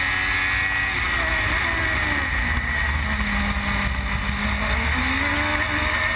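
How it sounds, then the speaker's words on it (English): An FG1000 race car engine drones loudly and steadily, its pitch rising and falling as the rear wheels spin up on the GP Circuit Dubai, heard as a close, continuous roar with no talk. "So he spins the back wheels up in the FG1000."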